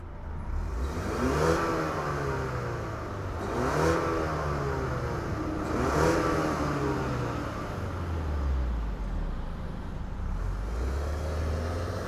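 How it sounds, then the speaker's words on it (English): A 2025 Ford Explorer Platinum SUV engine revs repeatedly in several rising surges, then settles into a steady drive-off drone, moderately loud with no speech. "let's fire up this Platinum Explorer and see it move"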